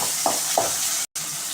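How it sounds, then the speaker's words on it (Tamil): Onions and tomatoes with curry leaves and coriander sautéing in a pan, a steady sizzle with a couple of stirring scrapes, close and loud, briefly cutting out near the end. "போட்டுட்டு மொத்தமாக வதக்கிட்டுக்கோங்க."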